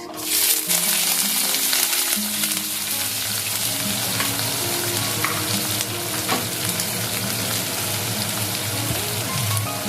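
Chopped onions dropped into hot spices in a pan, frying with a loud, continuous close sizzle and crackle, occasional stirring scrapes, and no voices.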